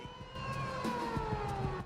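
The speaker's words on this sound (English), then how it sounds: "another random siren for some reason" Police siren inside the NBA 2K18 basketball video game, a steady wailing tone under low arena murmur, moderately faint and continuous throughout, no talk.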